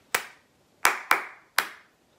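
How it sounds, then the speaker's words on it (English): A single clap opens a rhythm pattern in a community primary music lesson. After a pause come three more crisp claps, two close together and one slightly later, all near and clear against a quiet background. "I'm gonna clap first, and then you're gonna clap back to me."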